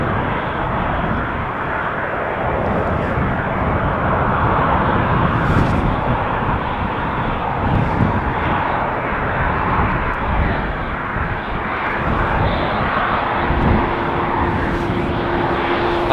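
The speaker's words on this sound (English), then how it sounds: "as the 777 is going to taxi to the threshold, the A220 coming this way" Jet aircraft, a Boeing 777 and an Airbus A220, taxiing at Amsterdam Schiphol Airport, giving a loud, steady broadband engine roar and rumble that fills the whole stretch without breaks.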